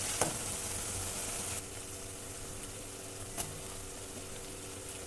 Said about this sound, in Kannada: ಇವಾಗ ಸ್ವಲ್ಪ ಉಪ್ಪು ಹಾಕಿ ಚೆನ್ನಾಗಿ ತಿರುಗಿ